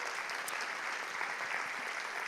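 Church congregation applauding during a Spanish-language sermon, a steady dense clapping that fills the whole moment at even loudness with no voices over it.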